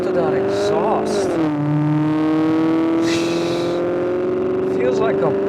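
Maserati GranTurismo exhaust revving in sport mode, a steady loud engine note that dips and climbs again, with someone talking over it throughout.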